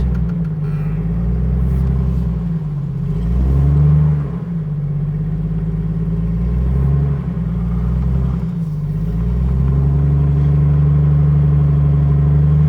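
A Jeep YJ engine revs loudly and steadily up close, surging and dipping twice as the front tire spins in snow, a continuous heavy rumble with no talk.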